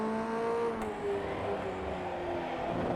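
Ray FF1600 race car engine in the iRacing simulator at Okayama Circuit, a moderate steady whine with the pitch sliding down as the revs drop through downshifts under braking, with no talking.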